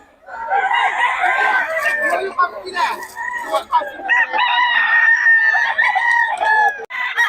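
A rooster at a Pampanga gamefowl seller's yard crows loudly and close, one long drawn-out call followed by a second strained crow, with clucking fowl around it.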